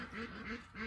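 Male ducks give a few short, raspy, low quacks close by, repeated in a quick uneven rhythm over less than a second.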